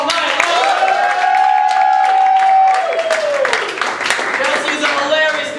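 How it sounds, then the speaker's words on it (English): An audience at an improv comedy show claps and cheers steadily for the host. A voice calls out over the applause partway through, and the clapping fades slightly toward the end. "Big round of applause for Chelsea for hosting all night"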